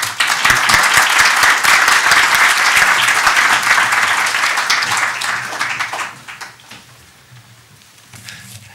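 A conference audience applauds a speaker, Ivan Krastev, arriving at the podium at an event on illiberal governance: dense, sustained clapping across the room that holds steady, then thins and fades out near the end.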